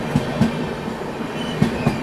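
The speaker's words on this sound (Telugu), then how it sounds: "నేనైతే దురంతో అనుకుంటున్నాను, నా గెస్ కరెక్ట్ అయితే దురంతో అవ్వాలి ఇది." A Delhi Sarai Rohilla–Yesvantpur Duronto express train rolls past, its wagon wheels beating a paired clickety-clack over rail joints above a steady, close rolling rumble, with no voices.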